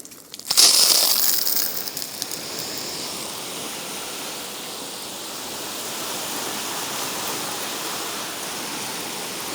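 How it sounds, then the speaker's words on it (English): Water sprayed over a Keter Store It Out Midi 880-litre plastic storage shed to simulate a heavy downpour: a sudden hissing burst of spray, then a steady, dense rain-like wash drumming on the plastic with no talk. "So as you can see, this is a pretty heavy downpour being simulated."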